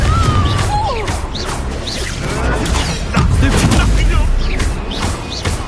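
A Confringo blasting spell bursts in a Hogwarts Legacy duel, a dense run of crashing, whooshing magical impacts layered over game music, with spell effects and combat clatter continuing throughout.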